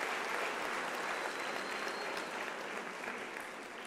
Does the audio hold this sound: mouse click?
no